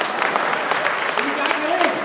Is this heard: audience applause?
yes